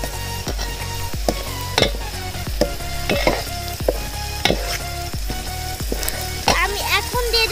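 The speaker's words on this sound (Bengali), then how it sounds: "তো আমি এখন ভালো করে রেড়ে দেব" Ginger and cumin paste frying in a pan while being stirred, a loud steady sizzle with a rhythmic series of spoon scrapes and clinks against the pan.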